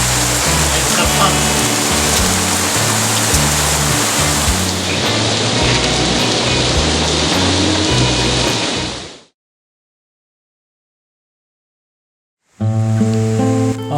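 Heavy rain falls in a forest as a loud, dense, steady hiss with a low tonal bed underneath, broken by a few seconds of total silence before it returns.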